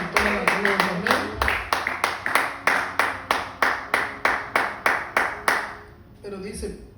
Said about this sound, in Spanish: ¿Por qué no le damos un fuerte aplauso a nuestro Señor?